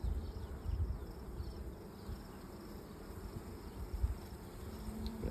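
Honey bees buzzing at an open hive in a bee garden, a faint, diffuse low hum with scattered nearby buzzes drifting in and out, no talking.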